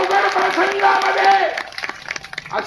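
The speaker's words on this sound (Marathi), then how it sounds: "त्या ताईच्या नावाने जोरदार टाळ्या होऊन जाऊ द्या" A crowd at a village gathering breaks into applause for a woman, a dense burst of clapping that follows a speaking voice and thins into scattered claps.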